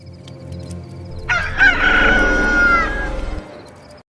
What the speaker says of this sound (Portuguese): E no mesmo instante o galo cantou.